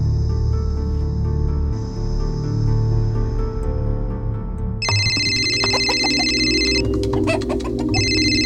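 A telephone rings after a call is placed, with repeated electronic ring bursts starting midway and pausing between them, heard clearly over a steady background hum.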